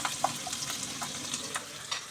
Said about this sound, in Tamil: உள்ளி, வெளுத்துள்ளி, இஞ்சி எல்லாம் நல்ல ஒன்றும் வதங்கி வரட்டும்